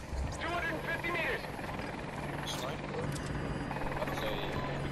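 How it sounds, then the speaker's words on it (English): An enemy helicopter whirs steadily in the Battlefield 2042 video game, a low, continuous rotor drone running beneath game noise while players talk over it throughout. "Helicopter, one of theirs."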